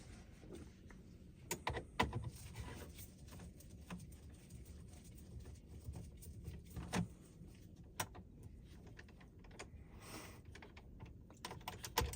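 Small clicks and taps from a 7mm nut driver loosening four bolts on a 2016-2018 Jeep Grand Cherokee WK2 dash radio unit, coming as scattered close, quiet ticks over a low hum with no talking.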